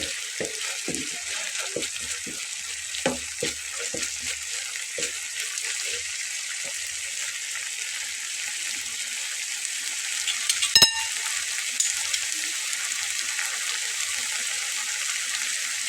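A mash of green chilies fries over a low flame, giving a soft, steady sizzle with occasional stirring clicks and scrapes from a utensil in the pan, plus one louder clatter.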